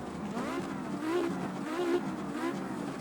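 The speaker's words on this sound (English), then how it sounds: "Absolutely lovely sounding. Inline 5. Turbocharged, giving us that power." An Audi Quattro rally car on tarmac tyres at the Nürburgring, its turbocharged inline-five engine rising and falling through repeated revving pulls, heard loud and close from on board, with no talk.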